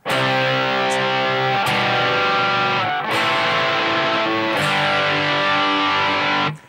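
An electric guitar strums a sequence of sustained, distorted chords from a song, changing roughly every two seconds with a strum marking each change.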